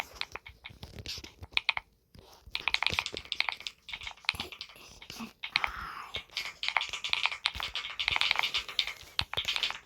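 Close, crisp typing on a computer keyboard in an ASMR setting, rapid uneven clacks with brief pauses, continuing at close range for the whole stretch.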